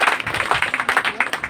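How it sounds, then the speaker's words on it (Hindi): Loud audience clapping at a gathering in honour of a team, a dense, steady patter of many hands throughout with some voices mixed in. "उनके लिए सब एक बार ज़ोरदार तालियां"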